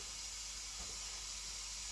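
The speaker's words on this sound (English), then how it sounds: "as I hope you can hear, the pressure is releasing" A Ninja 15-in-1 pressure cooker vents steam during pressure release, a faint, steady, continuous hiss with no other sound over it.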